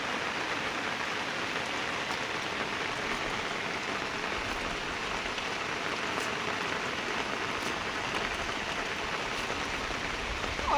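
Heavy rain falling steadily outdoors in a flooded rural village, a dense continuous hiss of rain on surfaces that stays even throughout, with no voices.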